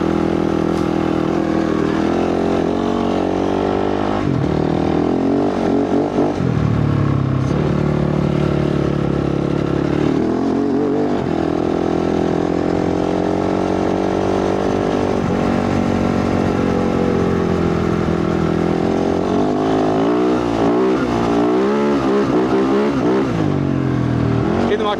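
A dirt bike fitted with a 51T sprocket rides through the desert with its back wheel spinning, its engine droning loudly and continuously while revving up and down throughout.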